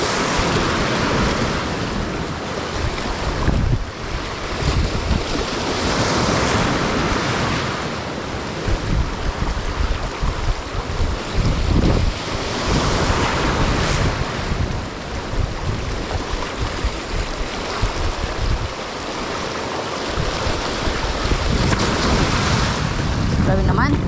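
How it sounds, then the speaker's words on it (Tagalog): Big ocean waves crash and roar continuously on the shore, a loud, full surge mixed with heavy wind buffeting the microphone. "Lalaki ng alon."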